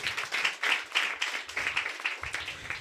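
A church congregation at a Sunday service clapping together in a steady, fast rhythm, the sharp claps close and moderately loud, with a faint voice in the background.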